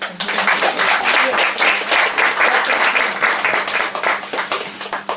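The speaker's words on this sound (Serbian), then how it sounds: "Aplauz za damu." Audience applause for a woman about to read from a story at a literary talk evening, a dense, steady wash of many hands clapping close and loud throughout, with no one speaking over it.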